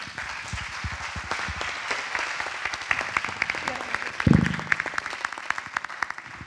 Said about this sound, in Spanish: vamos a pedir que todos nosotros nos demos un aplauso por estar aquí